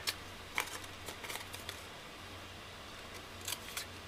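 Scissors snip through gummed kraft paper on a cardboard desk organiser, a few quiet, crisp cuts in short clusters against a faint hum.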